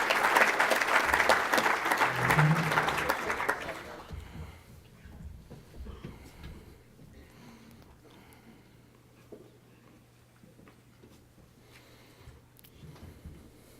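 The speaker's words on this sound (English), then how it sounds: "Give him a round of applause" Audience applauding at a high school football awards banquet, a loud burst of clapping for about four seconds that fades into quiet room murmur.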